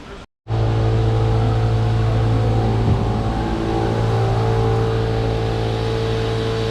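A Citroen C1 engine runs at a UK car auction, a steady loud hum that starts after a brief moment of silence and holds evenly to the end.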